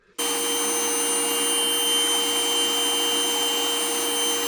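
A router spins up abruptly and holds a steady, loud, high whine while trimming cabinet pieces, a continuous motor drone close by with no speech.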